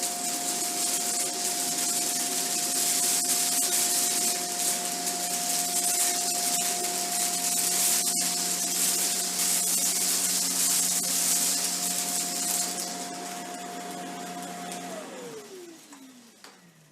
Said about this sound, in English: ran the vacuum over it in about a 10-second pass or so